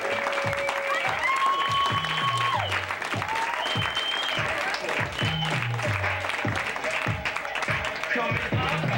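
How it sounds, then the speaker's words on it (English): Audience applause for a comedian at a comedy club, a steady loud wash of clapping throughout while a host speaks over it and music plays underneath. "Everybody clap your hands"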